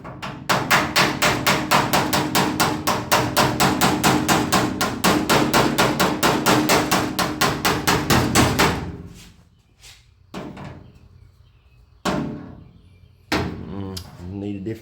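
Rapid metal hammer strikes on sheet metal backed by a dolly ring out in a steady, fast rhythm, then stop; a few separate loud clanks and knocks follow with pauses between them.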